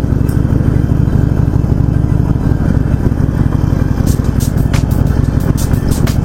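A steady, loud motorcycle engine with stock exhaust drones throughout at a constant pitch, with a few faint clicks and rattles near the end.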